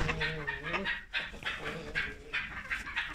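A hen clucks among poultry being let out in the morning on a farmyard with other hens and peacocks, giving a few close, throaty calls in short bursts amid background farmyard noise.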